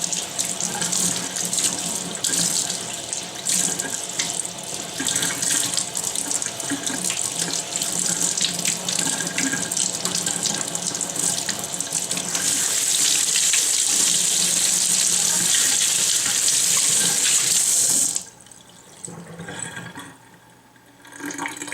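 Nutribullet blender parts, cup and blade, being rinsed under a running kitchen tap, a loud continuous gush of water splashing into the sink that brightens toward the end before cutting back, with no talking.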